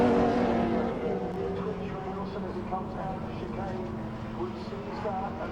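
Classic touring race cars, including a Vauxhall Vectra, run in close slipstreaming formation through a chicane at Donington Park, their engines a steady roar under continuous commentary.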